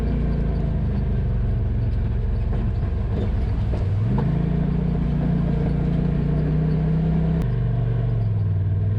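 Steady close engine rumble of a side-by-side on a red clay trail, with the pitch rising as it speeds up midway, then dropping slightly near the end as another truck goes past, no talking.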